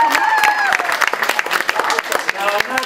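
At a radio show broadcast from a hardware store, the crowd applauds the new store owners in a loud, close burst of claps mixed with voices talking over it.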